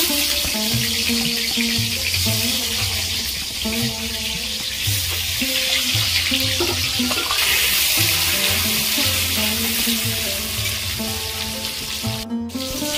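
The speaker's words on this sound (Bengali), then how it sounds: "পটলগুলো ভেজে নেব।" Pieces of pointed gourd sizzle steadily in hot oil, a constant hissing crackle with music playing softly underneath.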